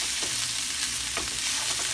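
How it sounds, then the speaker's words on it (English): Shrimp sauté in oil in a pot with a steady, close sizzle, while a few stirring scrapes and clinks break through the constant hiss. "we're just sauteing this up"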